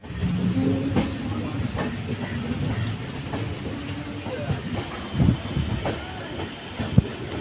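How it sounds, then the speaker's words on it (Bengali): The 12316 Ananya Express rolls into Barddhaman station, heard from on board as a steady, loud rumble with rhythmic clickety-clack of wheels over rail joints and occasional knocks. "ট্রেন ছেড়ে দিচ্ছে, এবার ট্রেনটি বর্ধমান ঢুকছে।"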